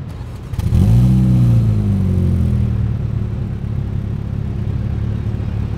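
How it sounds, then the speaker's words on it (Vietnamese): A MINI Cooper S five-door starts up with a sharp rev that settles into a steady idle through its twin exhaust, heard up close with no talking. "để nổ xe lên để cho quý vị các bạn thử thưởng thức cái tiếng bô ống xả này xem sao nhé"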